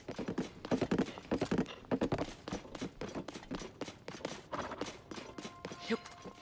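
Horse hooves in the video game Zelda: Tears of the Kingdom, a quick run of clip-clop hoofbeats at a steady galloping rhythm, fairly close and loud, with a faint game tone near the end.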